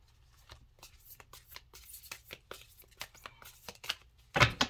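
Thick matte cardstock oracle cards riffle and slap together in a quick run of crisp shuffling bursts, close and fairly quiet, ending with a louder flurry.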